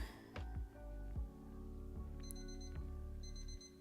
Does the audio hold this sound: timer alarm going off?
yes